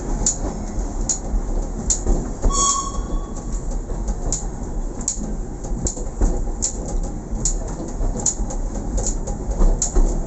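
A steam train rolls along its rails with a loud, steady rumble and a regular clickety-clack of wheels passing over track joints, heard close up.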